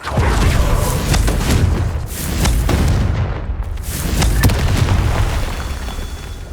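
Confringo blasting spells erupt in Hogwarts Legacy, loud booming explosions rolling one after another across several seconds with dense rumbling low end and a brief gap midway.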